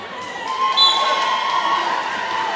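Cheerleaders and a crowd cheering at a high school basketball game between Jackson and Alcovy in the Jackson High gym, a steady roar of voices with shouts and whistles rising over it.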